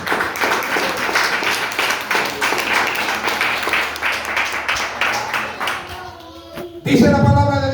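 Congregation clapping together in a church, a dense steady patter of hands for several seconds that fades, followed by a brief burst of noise at the end.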